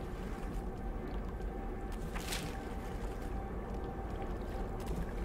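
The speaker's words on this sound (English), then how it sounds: "Sounds like there's a motor behind me or something." A boat motor on Loch Ness gives a low, faint, steady rumble, as if from some distance, with a brief swish of water partway through.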